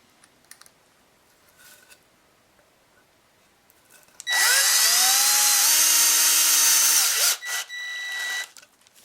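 A power drill drives a screw through rope into wood for a tree fort rope ladder, whining up loudly for about three seconds, then a short second burst, with quiet handling sounds before.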